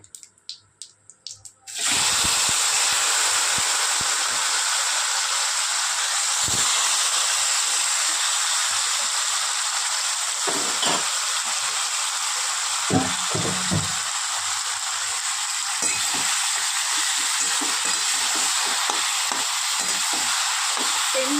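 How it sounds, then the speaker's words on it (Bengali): Drained pieces of taro hit tempered oil in a pan for a vegetarian taro and chickpea curry, bursting into a loud, steady frying sizzle that holds for about twenty seconds, with a few faint stirring knocks. "এবার জল ঝরিয়ে রাখা কচুটা আমি দিয়ে দেব"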